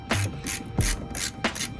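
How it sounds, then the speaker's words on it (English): A ratchet wrench clicks in three quick bursts, close and clear, while screws are removed from underneath a car bumper. "I'm definitely have to go underneath, start removing the screws underneath"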